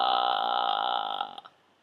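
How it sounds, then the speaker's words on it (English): A singer demonstrates vocal fry, a low creaky rattling voice made by loosely vibrating vocal cords, held steady for over a second before trailing off; a voice produces the sound alone and close. "The other thing you can do to relax your larynx is to do something called vocal fry."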